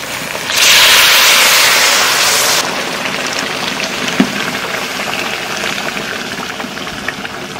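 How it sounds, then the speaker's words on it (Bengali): Hot water hits a pan of garlic mutton curry with a loud, rushing sizzle for about two seconds, then settles into a softer bubbling simmer with a brief clink of a utensil. "এখন গরম জল দিয়ে দেবো"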